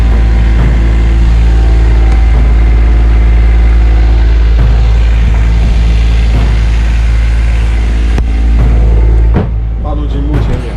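A sailboat's inboard engine runs steadily throughout during a thunderstorm passage, a loud continuous low drone with harmonic hum and occasional knocks and bumps from the pitching boat.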